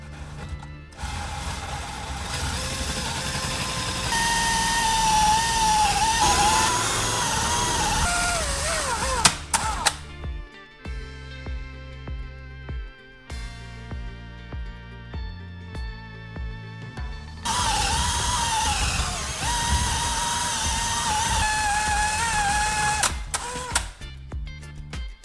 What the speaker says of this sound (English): Next, I'll use a round cutter to separate 2 circular wooden pieces.